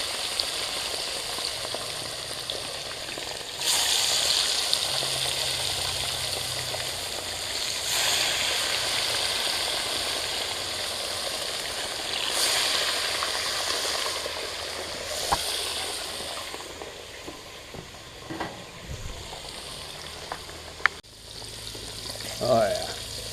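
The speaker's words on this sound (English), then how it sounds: "Won't take long for these little fillets to fry up." Small trout fillets fry in a pan with a steady, crackling sizzle that swells and fades in waves throughout, with a few sharper pops and clicks near the end.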